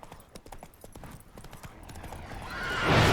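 Roach, the horse in The Witcher 3 video game, gallops with a fast, even clip-clop of hooves that builds toward a louder rush of movement at the end.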